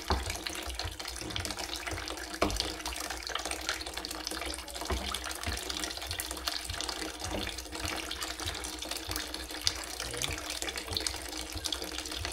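Cut produce rinsed under a running tap, giving a steady, moderately faint rush of water with small splashes and clunks throughout.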